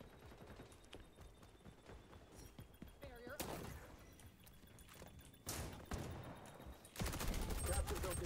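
Bursts of automatic MP5A2 gunfire in an XDefiant Domination match crack out in short sharp volleys, louder near the end, with a voice speaking between shots.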